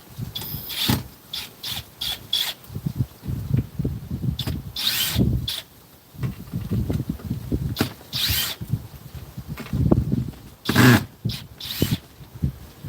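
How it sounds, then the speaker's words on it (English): A power drill drives screws into wood while building a Texas Mickey jack, with short bursts of whirring and grinding separated by pauses, close and fairly loud, and no talking. "we're gonna just pop these screws"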